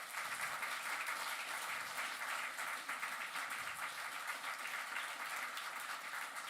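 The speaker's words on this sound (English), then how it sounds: "give him a big round of applause" An audience at a comic arts festival applauds, a sustained, even patter of many hands clapping across several seconds, moderately distant and without talk.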